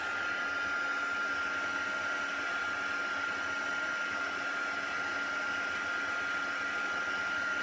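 Handheld dryer blowing on freshly painted craft pieces, producing a constant, fairly soft whirring hiss with a steady motor whine and no interruption.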